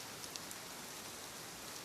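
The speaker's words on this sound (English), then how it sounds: "The rain falls softly around you." Soft rain falls on water, making a faint, even hiss with tiny scattered drop ticks. It continues steadily with no voices.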